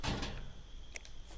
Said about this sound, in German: Du entriegelst die Tür mit Violas Wohnwagenschlüssel